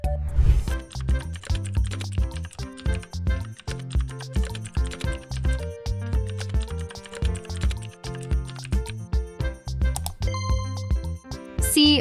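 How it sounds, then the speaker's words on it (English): Rapid typing on a computer keyboard while writing a Python program, with dense, uneven bursts of clicking keystrokes up close for the whole stretch and no speech. "I'll write a Python program."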